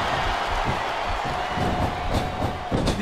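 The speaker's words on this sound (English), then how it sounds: "Wow, listen to that chant, Taz." Video game wrestling arena crowd from WWE SmackDown vs Raw 2007 roaring and chanting steadily throughout, a dense, loud wash of many voices with rhythmic swells.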